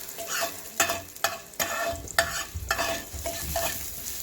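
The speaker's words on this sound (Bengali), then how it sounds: "তাই গাজরটা একটু ভেজে নিচ্ছি হালকা।" Carrots are lightly fried in a little oil, with a gentle sizzle broken by several sharp scraping stirs of a spatula against the pan at irregular intervals.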